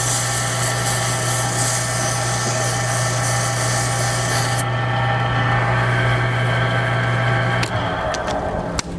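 Steady lathe whine with a low hum as a turned pen is worked with 220-grit sandpaper, a bright hiss of abrasive contact running for several seconds before cutting back, then a short clatter near the end; no talking.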